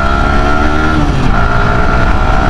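A motorbike engine droning steadily and loudly up close on a group ride toward the Aravali Hills near Delhi, with a constant tonal hum and rumble and no voices.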